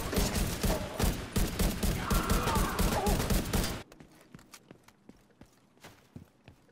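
Automatic gunfire in The Division 2, rapid dense bursts for about four seconds, then sparse scattered shots and clicks trailing off quietly, with no speech.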